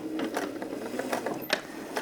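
A sewing machine runs basting stitches through jersey knit t-shirt fabric, a steady close mechanical whir with rapid needle clatter throughout.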